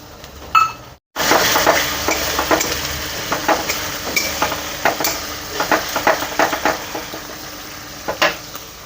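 Cumin, ginger and chili paste sizzles and fries in a hot pan while a utensil stirs it, a brief loud burst at the start, a short gap, then steady hiss with repeated clinks and scrapes.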